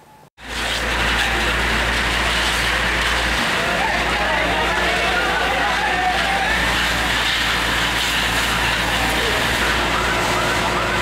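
A fire engine siren wailing continuously amid street noise at a furniture warehouse fire in Duren Sawit, Jakarta, loud and steady with a low rumbling engine underneath.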